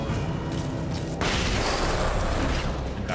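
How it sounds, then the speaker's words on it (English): A flashbang detonates in the video game Alan Wake 2, a sudden loud burst midway that leaves a sustained bright ringing wash over low game rumble. "Flashbang."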